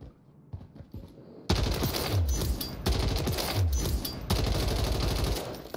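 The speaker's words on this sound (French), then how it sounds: "Regardons ça dans le stand de tir. Sur la RAM 7 en plus." RAM 7 assault rifle firing on a shooting range in Modern Warfare 3, loud sustained bursts of rapid automatic fire in several long strings with brief gaps, close and dry.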